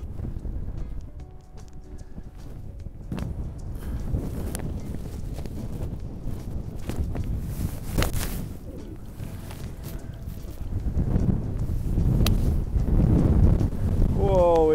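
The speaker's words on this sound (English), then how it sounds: "It's so windy." Strong wind roaring and buffeting the microphone nonstop on a golf course at Sandy Lodge Golf Club, a heavy low rumble that swells louder toward the end, with people talking beneath it.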